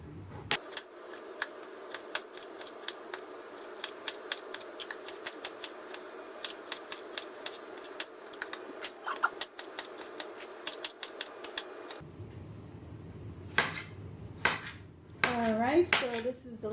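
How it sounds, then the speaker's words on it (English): Tomatoes are chopped on a cutting board for charro beans, with rapid, crisp knife taps in a steady run, then a few louder clatters and quieter handling near the end. "I'm going to continue cutting up these tomatoes"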